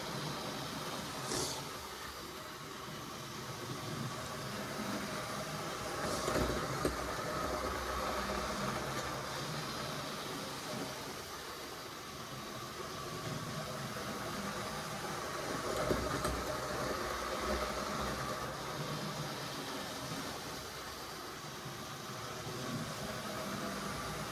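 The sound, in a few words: model railway locomotive running on track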